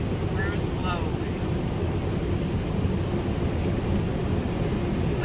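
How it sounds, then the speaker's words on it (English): Steady roaring blast of strong air in a car wash drying area, a loud continuous rumble heard from inside the car with no pauses. "See how the wind is so strong? It's lifting it right out."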